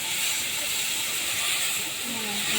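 Sundarban crabs being stirred in a hot pan of oil for a tangy crab curry make a dense, loud, unbroken sizzling hiss up close.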